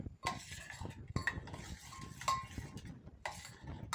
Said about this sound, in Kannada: ಗಂಟಿಲ್ಲದೆ ಇದ್ದಂಗೆ ಚೆನ್ನಾಗಿ ಕದರ್ಕೊಳ್ಬೇಕು